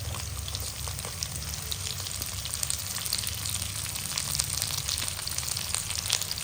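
Shredded cabbage fries in a hot pan for restaurant-style mushroom fried rice, giving a steady moderate sizzle with faint crackles and occasional stirring scrapes throughout.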